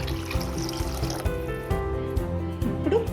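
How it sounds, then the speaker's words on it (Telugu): Water pours in a steady close stream over rice and carrot pieces in a cooking pot, gurgling and splashing continuously for a few seconds with no talking. "ఇందులోనే క్యారెట్ ముక్కలు, వాటర్ పోసుకుందాం"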